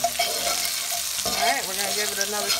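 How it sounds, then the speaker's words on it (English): Beef short ribs and parsnip sizzle in a stovetop pot while being stirred, a continuous close frying hiss with scraping spoon strokes and a brief clatter midway. "Give it another stir."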